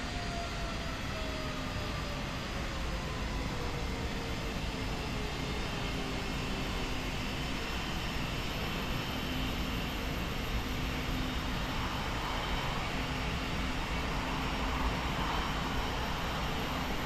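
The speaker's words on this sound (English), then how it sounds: "Starting engine 1." Airbus A320 jet engine spooling up during start in Microsoft Flight Simulator, a steady loud turbine roar with a slowly shifting whine running unbroken throughout.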